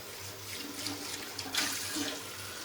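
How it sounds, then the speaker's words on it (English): Water splashes steadily from a tap as a ceramic shaving soap jar is rinsed out, a close, continuous gurgling wash with small shifts in the flow and no talk. "So let's clean out the ceramic jar a bit."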